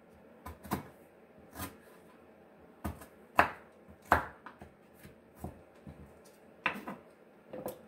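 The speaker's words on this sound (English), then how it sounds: "I'm gonna cut up the ginger." Knife chopping fresh ginger on a cutting board, a series of irregular sharp, close knocks spaced unevenly with brief pauses between strokes.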